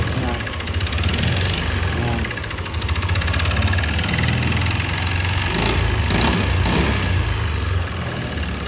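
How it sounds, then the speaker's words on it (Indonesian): A rough, knocking Yamaha Aerox 155 VVA scooter engine with about 30,000 km and an engine fault runs close by, revving up and holding a loud, rattling drone with a harsh mechanical texture. "dan suara kasar ini kita diagnosa memang di bagian mesin. Untuk suara seperti ini kita coba open gas."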